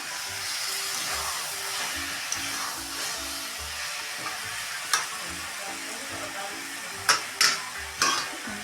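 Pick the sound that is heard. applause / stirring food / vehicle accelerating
stirring food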